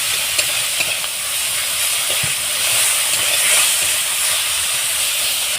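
Garlic paste sizzles and fries in a pan for a fish curry, giving a loud, steady hiss that carries on without a break and with no talking.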